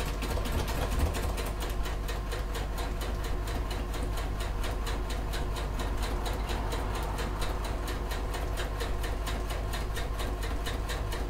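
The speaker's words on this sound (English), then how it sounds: "I'm just going to top stitch across 1/8 of an inch away." A sewing machine top stitches across a clutch bag at a medium stitch length, a steady rhythmic needle chatter running continuously and close for the whole stretch.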